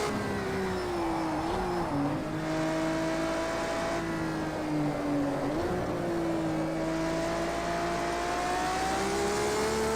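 Ferrari engine driven in Project Cars 2 on PS4, a continuous loud buzzing engine tone that rises and dips with shifts and throttle changes, steady throughout with no talk.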